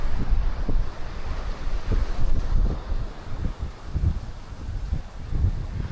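Steady wind buffets the microphone in low gusts on a beach at Playacar, Playa del Carmen, with a soft wash of surf behind it and no voices.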